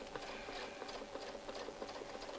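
A sewing machine stitches a continuous rope design along a template, giving a quiet, steady run of rapid mechanical ticks and whirs in an even rhythm with no talking.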